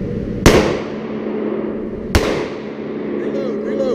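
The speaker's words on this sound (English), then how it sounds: "I just started my handgun training with Steve Cohen." Two sharp, loud handgun shots ring out about two seconds apart at a tactical shooting training range, each with a brief echoing decay into the surrounding background noise.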